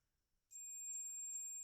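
A multimeter on a continuity test of a car wiring plug on an Audi A3 gives a steady, high electronic beep. It starts abruptly after a moment of near silence and holds alone to the end.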